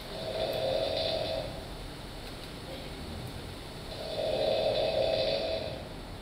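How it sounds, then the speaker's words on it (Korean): A sleeping person with suspected sleep apnea snores loudly in two long, rasping inhalations separated by a quiet pause, close to the microphone. "심한 코골이 같으신가요?"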